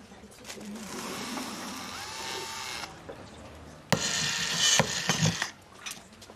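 An electric drill whirs in short bursts, winding up and stopping, with people talking around it.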